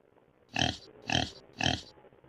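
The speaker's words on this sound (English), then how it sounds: "Pig, snort and oink." A pig grunts and oinks three times in an even rhythm, each call short, close and clear against a quiet background.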